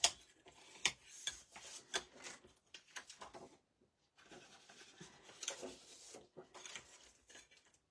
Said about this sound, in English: if we fold these over and again give them a good burnish